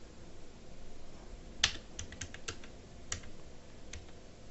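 Several key clicks from typing a search keyword on a computer keyboard, one sharper tap then a short cluster of lighter clicks over a quiet room hiss, no talking.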